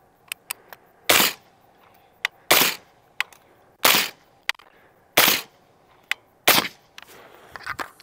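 A rifle fires through a Torch suppressor fitted with a solid end cap: five loud, suppressed cracks roughly every 1.3 seconds, with faint clicks and handling noise between them and no talking.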